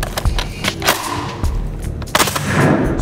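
SAR 21 assault rifle fired at a range, heard as loud, sharp, close shots at irregular intervals with echoing tails and heavy low thumps over a noisy background.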